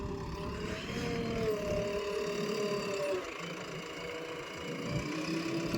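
A JCB backhoe loader's diesel engine runs steadily at close range, a low, even rumble with a faint whine rising and falling over it and no voices.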